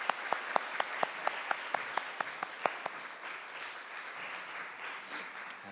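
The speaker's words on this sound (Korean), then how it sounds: "다시 한번 하나님께 영광의 박수 올려드리겠습니다." A church congregation applauds during a Sunday morning worship service at an air force base church, starting with a dozen sharp, evenly spaced claps that blend into a fading, diffuse round of applause.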